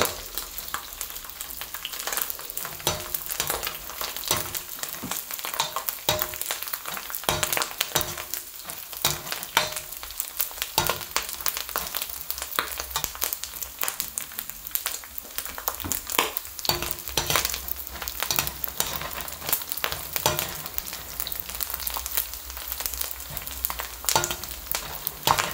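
Hot oil crackles and spatters steadily around frying meat, a dense, close, continuous sizzle with sharp pops scattered throughout and no voices.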